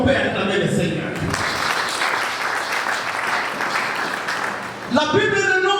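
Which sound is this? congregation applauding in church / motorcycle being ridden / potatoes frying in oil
congregation applauding in church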